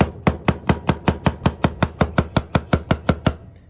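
A meat cleaver mincing garlic on a cutting board, sixteen steady, evenly spaced chops knocking out in a quick rhythm, close and loud, with no voices.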